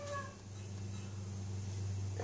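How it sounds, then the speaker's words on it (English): Indoor cat meowing: a brief meow at the start and a faint one near the end, over a steady low electrical hum. "My cat."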